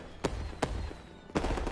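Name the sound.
fireworks in the background, Beat Saber video game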